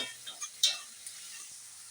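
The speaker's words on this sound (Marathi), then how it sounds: "तर मित्रांनो आपण कढईमधला कांदा टॅमॅटो कोथिंबीर हे सर्व काही भाजून घेत आहे" Onion, tomato and coriander roasting in a kadhai, a quiet soft sizzle with a few light stirring scrapes and small clinks of the spoon against the pan.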